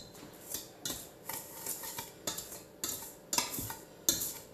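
A utensil scrapes and clinks steadily against a bowl while stirring cake batter ingredients, a run of bright rhythmic strokes about every half second, close and alone.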